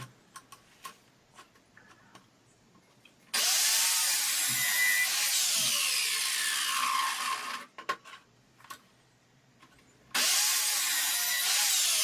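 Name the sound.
miter saw cutting pallet wood L shapes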